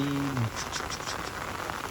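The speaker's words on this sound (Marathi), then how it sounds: "जोरान आला रे पाऊस जोरान आला रे" Steady rain patters down across the whole clip, a dense hiss of drops on a surface with a brief low tone at the start.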